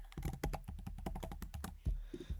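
Fast typing on a computer keyboard while entering an email address and password, a dense run of close, crisp key taps with slight pauses.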